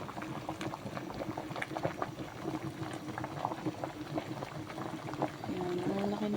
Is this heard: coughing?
no